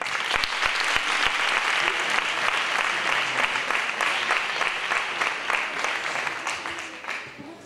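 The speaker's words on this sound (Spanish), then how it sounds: "Todos ellos me gustaría que le dieran un fuerte aplauso." Sustained, strong audience applause fills a 2018 sports gala for several seconds, many hands clapping close and steady before tailing off at the end, with faint voices mixed in.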